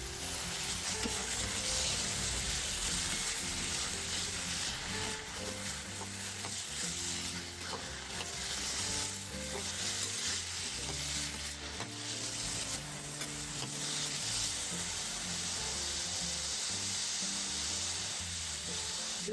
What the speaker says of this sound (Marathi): कैरी छान तेलामध्ये परतून द्यायची